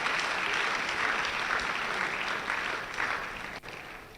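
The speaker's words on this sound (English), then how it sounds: "One more time, let's clap for them." Steady audience clapping at an education summit and graduation ceremony, a dense wash of hands that holds throughout and tapers slightly near the end.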